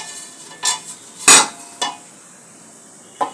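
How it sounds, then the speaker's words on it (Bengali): A spoon stirs a cooking pot of rohu fish head with okra: a few separate scrapes and clinks against the metal, one louder knock in the middle, spaced out over a quiet background. "একটু নেড়ে দেবো।"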